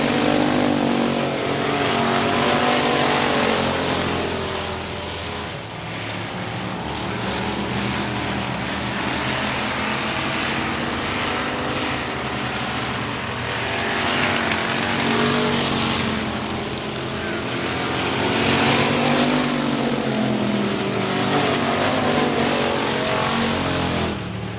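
Race cars circling the I-37 Speedway, a loud continuous engine roar that swells and fades as the pack passes, dense and unbroken throughout.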